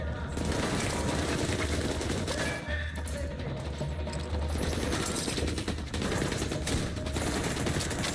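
Rapid automatic gunfire in The Division 2, dense continuous bursts of loud shots with mechanical clacks, filling the scene with only brief lulls.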